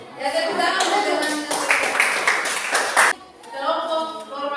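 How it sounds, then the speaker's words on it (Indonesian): Students in a classroom clap for classmates in a lively burst lasting about three seconds, followed by a brief lull and voices talking. "Ya, tepuk tangan untuk teman"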